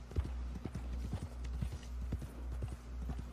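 Horse hooves clip-clop at a steady walking rhythm in Red Dead Redemption 2 Online, near and fairly loud over a low ambient hum, with a brief whinny-like note.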